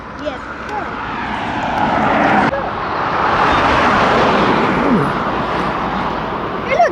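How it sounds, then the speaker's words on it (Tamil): A DJI Mavic Air 2S drone flies outdoors by a riverside, giving a steady, close whirring hum that swells and fades slightly over several seconds, with people talking underneath. "இப்போ நாங்கள் ரிவர்ஸ் சைட்டுக்கு போய் ட்ரோன் பறக்க வைப்போம்"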